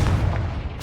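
A Confringo fire spell blast from the video game Hogwarts Legacy, a short, loud, booming burst with a rumbling low body lasting under a second.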